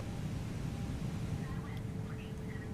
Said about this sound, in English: Give the plane some power.